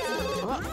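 A phone rings in The Sims 2, a bright warbling electronic trill that wavers in pitch, close and steady for a brief moment with no voices over it.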